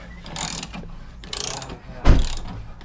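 Ratcheting wrench clicks sound in short bursts while bolts on a Jeep Wrangler JK rear bumper get their final tightening, with a sharper metallic clunk near the end; close and unaccompanied by talk.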